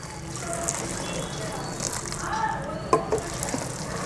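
Sweet pongal (chakkara pongal) being stirred in a pot, a soft continuous scraping and bubbling with a few brief clinks near the end, close and moderate in level.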